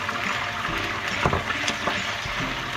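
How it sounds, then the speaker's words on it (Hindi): Water pours into a pan of garlic and ginger while making chicken korma, a steady close splashing rush lasting a few seconds without talk. "थोड़ा सा पानी डाल देंगे।"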